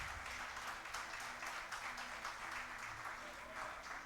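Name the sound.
congregation applauding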